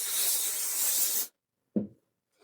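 Fabric spray hissing from a can onto organza pieces of a collage quilt, one continuous bright burst of a little over a second, followed by a short thump of handling.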